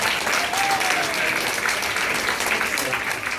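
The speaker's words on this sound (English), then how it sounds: "Let's give him a big round of applause." An audience at a bird show at Grant's Farm claps steadily for about three seconds, a dense, fairly loud wash of applause with a voice faintly under it.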